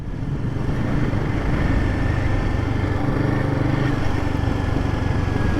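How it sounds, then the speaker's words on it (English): Royal Enfield Guerrilla 450 motorcycle with a single-cylinder 450cc engine, running steadily and loudly with a continuous low thrum that stays close and unchanging, with no talk. "for a 450cc single, this engine is glorious"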